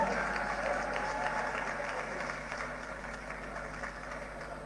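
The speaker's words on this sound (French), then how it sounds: "Sous vos applaudissements, s'il vous plaît." An audience at a panel event applauds to welcome a panelist to the stage, a steady wash of many hands clapping at a moderate distance that gradually tapers off.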